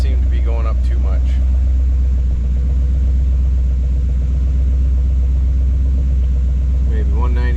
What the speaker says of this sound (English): we'll just get a good idea where it sits and idles at without the fan running